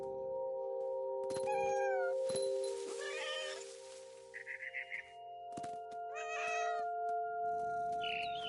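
Cat meowing in What Remains of Edith Finch, a few separate meows with harmonic pitch bends across the clip, close and clear over a steady game music drone, with some soft knocks and chirpy sounds between.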